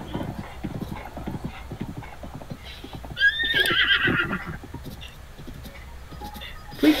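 Steady clip-clopping horse hooves in The Legend of Zelda: Breath of the Wild trot along in a rhythmic pattern, joined midway by a bright horse whinny and some game-like ambient noise.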